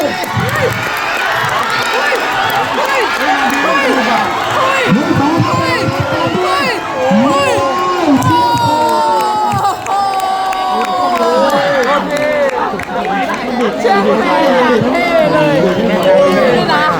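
A spectator crowd cheers and shouts loudly and continuously at a men's open-age 4x400 m relay final at the 2023 Mae Sai Games, with excited voices rising and falling throughout under an announcer's talk.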